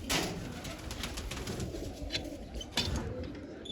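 Pigeons coo softly and continuously at close range, with a faint flutter of wings and a couple of brief sharper sounds.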